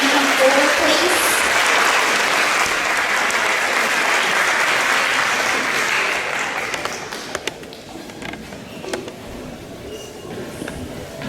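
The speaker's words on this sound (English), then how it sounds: "can y'all help me give Sadie Smith a round of applause?" Audience at a school board meeting applauding a student named Sadie Smith, a loud, steady round of many hands that tapers off into scattered claps and faint room noise.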